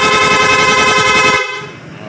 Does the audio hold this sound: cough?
no